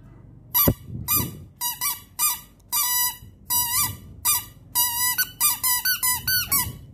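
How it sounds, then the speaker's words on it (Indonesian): A drinking straw fitted with a baby-shoe squeaker is blown in a dozen or so sharp, high squeaks, some short and some drawn out, in an uneven rhythm, loud and close with no talking. "salah satu contohnya adalah sedotan yang diberi cicitan sepatu bayi"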